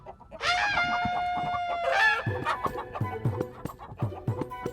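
A hen clucks and squawks loudly up close, with rhythmic bursts of clucking following a couple of longer calls.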